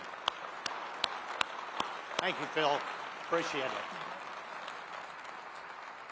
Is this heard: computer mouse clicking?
no